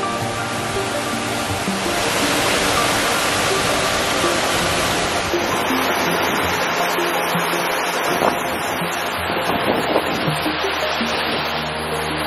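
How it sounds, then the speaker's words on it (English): A steady, roaring rush of falling water at Wolf Creek Falls, Arizona fills the scene, broad and continuous, with no voices over it. "so we found the waterfall"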